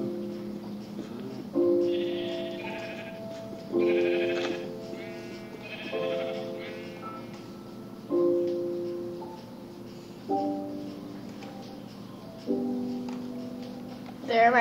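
Cows in a video game low and bleat in a series of drawn-out calls, roughly one every two seconds, clear and fairly close, against a quiet background.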